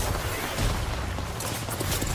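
Gunfire in a video game: a dense, continuous barrage of shots that stays loud and close throughout, with no clear pauses.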